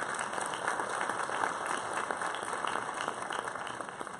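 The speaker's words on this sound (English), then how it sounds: "Let's have another applause for Justina" Applause rises for a varsity volleyball player at a high school athletic awards ceremony, a quiet, distant spread of many hands clapping steadily throughout, with a faint hum under it.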